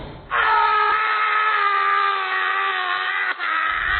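A sustained, wailing groan of pain used as a horror story sound effect, loud and continuous for several seconds with a quavering tone and no talk over it.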